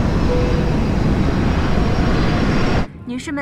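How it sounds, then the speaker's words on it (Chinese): Steady loud roar of airliner cabin noise as the plane begins its descent, filling the space before dropping sharply near the end, with a cabin announcement voice heard over it. "女士们、先生们，我们的飞机已经开始下降。"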